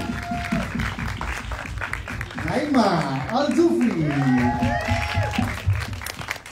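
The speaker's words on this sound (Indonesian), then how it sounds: "beri tepuk tangan yang paling meriah untuk Zulfa Maharani" Applause from the audience at a film trailer launch for the horror film Qorin as cast members are introduced, a continuous wash of clapping under a loud announcer's voice calling out names.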